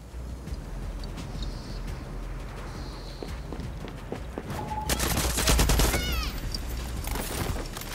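Gunfire in the video game Far Cry 6 during an assault on a bunker-like building: quiet footsteps and ambience give way to a loud, rapid burst of automatic shots midway, then scattered trailing shots.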